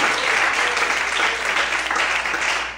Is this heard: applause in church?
yes